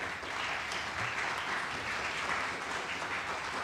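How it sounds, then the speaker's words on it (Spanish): Audience applause at a university theatre workshop talk, a steady dense clapping that fills the room evenly throughout, fairly soft and distant, with no voices over it. "Les damos un aplauso, por favor."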